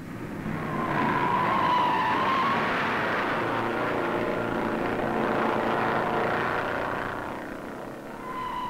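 Race cars accelerate together at the start of the 1958 Daytona beach race, a broad, sustained engine roar that swells and then gradually fades, heard from a distance without talk.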